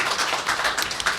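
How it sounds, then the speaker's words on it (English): An audience at a political talk on New Hampshire secession claps together, a steady patter of many hands filling the short moment at moderate loudness with no voices over it. "Oh, let's applaud. Yeah, let's applaud."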